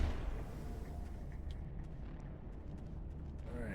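Missile launcher blasts in the video game Mass Effect: a dense, rumbling barrage of booming explosions and crackling impacts fills the scene continuously, loud and close, with a brief faint voice beneath.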